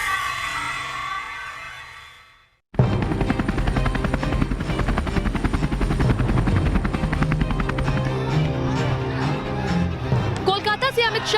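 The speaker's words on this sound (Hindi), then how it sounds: "कोलकाता से अमित शाह का हेलीकॉप्टर मिदनापुर लैंड कर चुका था।" A helicopter carrying a politician lands at a helipad in Midnapore, its rotor beating loud and steady after a sudden cut in, while a voice talks faintly early on.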